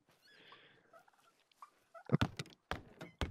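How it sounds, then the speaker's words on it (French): Wild turkeys gobble in the hunting game The Hunter: Call of the Wild, a faint distant call first and then louder, rapid gobbling bursts in close succession, with no voices over them. "Il y a au moins deux dindons qui me répondent, donc il y a potentiellement deux groupes."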